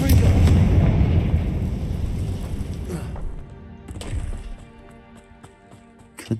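A Confringo spell blast in a video game lands as a loud, dense booming explosion that fills the first three seconds, then trails into a second rumbling hit and fading ringing debris and effects.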